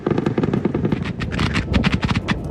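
Rapid bursts of automatic gunfire crack in dense, rattling volleys, loud and close, continuing without pause throughout.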